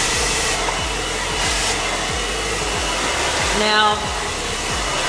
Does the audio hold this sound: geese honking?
no